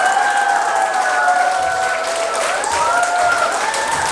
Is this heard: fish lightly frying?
no